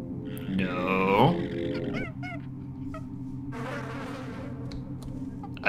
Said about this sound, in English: I triggered more bees.